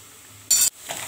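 Onions sautéing in a pan during home cooking of a pumpkin stir-fry, giving a short burst of loud hissing sizzle, as if from stirring, over quieter low background frying.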